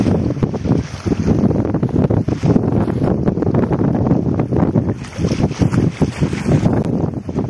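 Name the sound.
sea breeze wind at the beach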